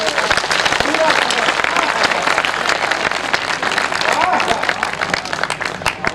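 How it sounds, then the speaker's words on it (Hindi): Loud, dense audience applause breaks out during a Hindi poetry recital, with a voice calling out over the clapping throughout. "एक बार हाथ उठाकर तालियां बजाओ।"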